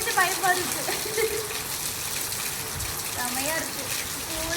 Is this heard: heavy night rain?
yes